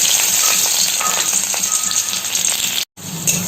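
Chopped onion frying in hot white cooking oil, a loud, steady close-up sizzle that hisses continuously with faint crackles and one brief dropout near the end.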